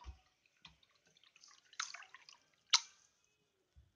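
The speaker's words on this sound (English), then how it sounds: "like chuck him in water" A cartoon character tossed into water in a Mario animation: a soft splash and dripping plops, then a sharp bright splash, with faint watery trickles and quiet gaps in between.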